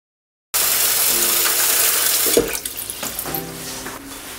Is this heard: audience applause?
no